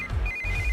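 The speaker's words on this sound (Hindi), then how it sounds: "इस वक्त दीदी का फोन।" A brief electronic phone ring, a steady high tone over a low rumble, heard alone for under a second.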